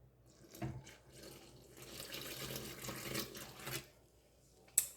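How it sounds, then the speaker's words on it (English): Water at 90 degrees, 500 grams of it, pours from a container into bread dough ingredients for a poolish white loaf. The splashing stream is faint and close, swelling unevenly for a few seconds and ending in a small clink. "And then you're gonna pour 500 grams of water at 90 degrees."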